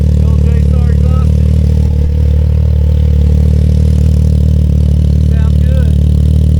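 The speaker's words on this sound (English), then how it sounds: "There it is. The old JSTAR exhaust." Motorcycle or small vehicle engine running steadily through a newly installed JSTAR aftermarket exhaust, a loud, constant close-up drone at idle with no revving, while a voice talks briefly over it.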